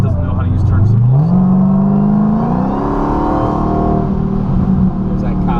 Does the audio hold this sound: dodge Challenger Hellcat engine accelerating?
yes